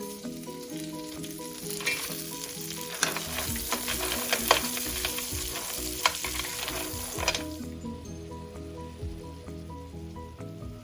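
Clams with garlic frying in a pan, a continuous crackling sizzle with scraping and clattering shells as they are stirred, close and fairly loud, easing into a steadier simmering hiss near the end.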